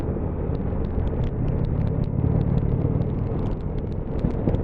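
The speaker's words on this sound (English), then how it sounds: "Yeah, it's a proper thumper." A 2019 Indian Chieftain motorcycle with a 1.8-litre two-cylinder engine thumping along on the road: a steady, deep, close rumble with a continuous low pulse and light wind noise, no voices.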